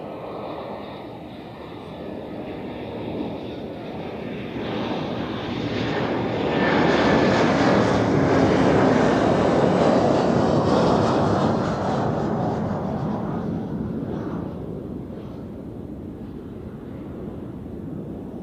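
A KLM airliner at Zurich Airport gives a broad, steady jet roar that swells to a loud peak midway and then slowly fades, heard alone without voices.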